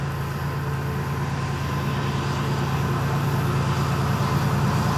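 A steady, loud rumble of Florida East Coast Railway locomotive 202 passing nearby, continuous low roar with rattling throughout and no pauses.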